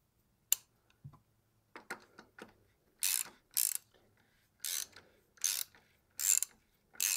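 A ratchet tightens the drain plug on a Volvo/Ford Powershift MPS6 6DCT450 automatic transmission, giving a series of quick close clicking bursts in an even back-and-forth rhythm with brief quiet pauses between strokes.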